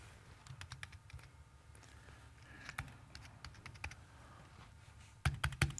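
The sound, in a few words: typing on a computer keyboard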